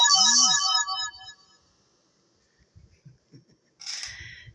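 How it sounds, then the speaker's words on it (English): A phone text message alert plays a bright, rising chime of stacked electronic tones for about a second, then fades to near silence before a short burst of noise near the end. "That was a really pleasant text message."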